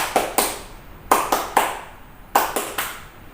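Sunday-school children clap their hands together in a church kids' service, sharp claps grouped in quick pairs and triples with short gaps, close and fairly loud, no voices over them.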